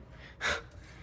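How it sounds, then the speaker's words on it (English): A dog that has just come back from a walk gives a single short, breathy huff or pant, faint against a quiet kitchen room tone while baking is under way. "If you hear that noise, that's my dog panting."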